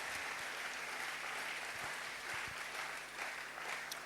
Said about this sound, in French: Si on peut acclamer pour la parole.